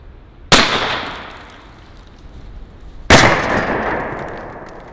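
An AEA 12 gauge magnum harpoon air gun loaded with number 8 shot fires two loud, sharp blasts about two and a half seconds apart, each trailing off in a hissing decay outdoors.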